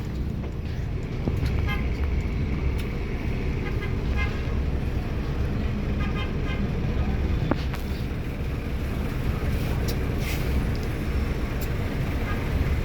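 Busy daytime road traffic near an LRT station in Pasay, Manila, with a continuous low rumble of engines and passing vehicles and a few short horn toots scattered throughout.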